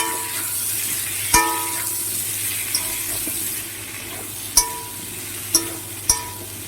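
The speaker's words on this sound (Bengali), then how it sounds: "পেঁয়াজটাকে একটু লাল লাল করে ভেজে নেব এই আলু কুমড়োর সাথে" Onion fries with potato and pumpkin in a pan, a steady close hiss of sizzling oil with a few sharp clicks and taps of a utensil against the pan, with no talking.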